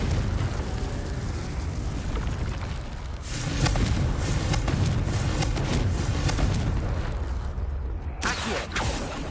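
A Confringo spell blast in Hogwarts Legacy erupts in a series of booming fiery bursts, loud crackling explosions rolling over a low rumble, with a final burst near the end.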